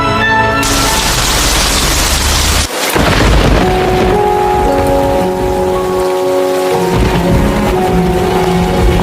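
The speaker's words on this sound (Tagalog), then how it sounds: "Ay nako, ulan na ulan sa labas." Steady heavy rain pours down in a Roblox horror game while deep rolls of thunder rumble through, the downpour continuing without any voices.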